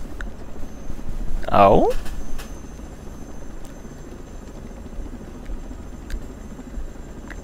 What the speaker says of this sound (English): these helicopters are fucking loud